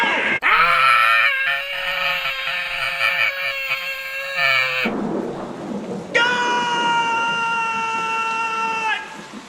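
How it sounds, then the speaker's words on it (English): A voice actor's long, loud, pitched scream from the horror movie The Church. It is sustained and wavering for several seconds, breaks off into a rumbling pause, then returns as a second drawn-out, higher cry. "It's the voice actor's scream that makes this funny to me."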